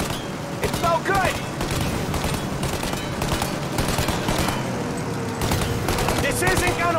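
Dense, loud bursts of automatic gunfire aimed at a plane's engines in the video game Mafia Definitive Edition, firing in rapid continuous volleys with mechanical clatter, while voices shout over the shooting.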